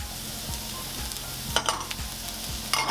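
Onions and mushrooms sauté in a pan of melted fat, giving a steady close sizzle with a few scraping stirs and brighter crackling bursts partway through.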